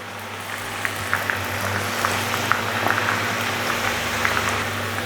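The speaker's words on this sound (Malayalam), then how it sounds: "ഇവനെ ഒന്ന് ഫ്രൈ ആക്കി എടുക്കാം" Potato pieces fry in hot oil for a snack mixture, a dense, steady bubbling hiss with scattered sharp pops and crackles, fairly close and moderately loud, with no voices.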